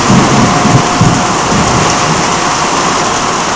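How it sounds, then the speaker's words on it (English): Heavy rain pounds a metal roof in a dense, loud, steady roar, with low rumbles of thunder rolling underneath throughout. "So we can hear the rain."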